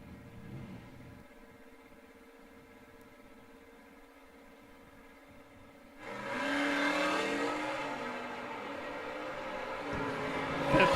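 A 1962 Dodge drag car with a big Hemi engine stages at the line, starting as a faint low rumble far off, then swelling louder and rougher as the engine revs up partway through.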